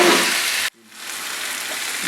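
Ginger and garlic fry with spices in a hot pan, giving a loud, close sizzle. It cuts off abruptly for an instant, then resumes as a steady crackling hiss without any talk.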